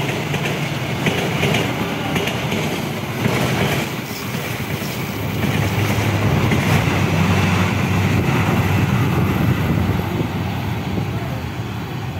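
An Indonesian passenger train, the Bangunkarta, rumbles past on the Cakung-Bekasi line steadily and loudly for the whole stretch, with a broad roar and faint rhythmic clatter of wheels, no talking.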